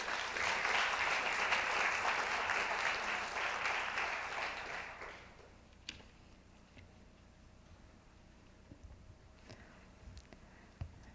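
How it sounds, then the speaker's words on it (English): Audience applause welcoming a speaker at the opening ceremony of a conference plenum, a dense, loud burst of clapping for about five seconds that fades into quiet room noise with a few scattered sounds. "Please welcome Ms. Sakurai with a warm round of applause."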